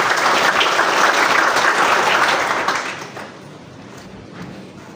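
An audience at a government contract signing ceremony bursts into loud, dense clapping that holds for a few seconds and then fades to scattered claps.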